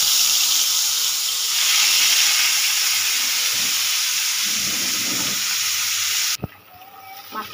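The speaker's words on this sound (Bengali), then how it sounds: "এখানে আমি এবার মাছটা ভেজে নেব।" Katla fish fries in a couple of spoonfuls of hot oil in a wok, making a loud, steady, dense sizzle that cuts off abruptly near the end, leaving quieter kitchen noise.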